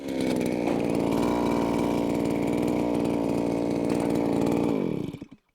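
A motorized ice auger whines at steady high revs for several seconds, then winds down and cuts off.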